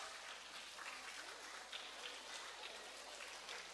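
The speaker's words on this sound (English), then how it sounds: "Children, please clap." Applause from children at a literary festival, steady, dense clapping sustained throughout at moderate distance, with no voices standing out.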